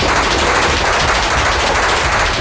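Dense, continuous gunfire in Iraq rattles without pause, loud and close, like sustained automatic weapon bursts layered over one another.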